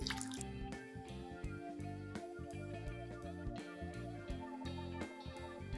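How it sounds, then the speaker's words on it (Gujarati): Reserved water from boiled black peas is poured into a cooking pot of pea usal, with a steady run of drips and splashes at close range and no talking. "આપણે જે વટાણામાંથી પાણી કાઢ્યું હતું એ જ હું એડ કરું છું"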